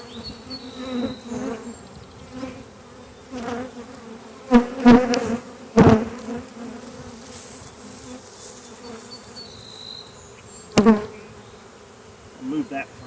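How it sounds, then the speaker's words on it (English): A dense, continuous buzz of many honeybees on a hive comb close by, with louder individual bees swelling past now and then; no voices. "There's just so many bees."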